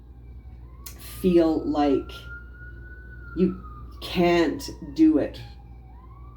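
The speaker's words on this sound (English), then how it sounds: "You can hear the siren in the background there." A faint siren wails steadily in the distance, rising and holding its pitch while a person speaks in the foreground.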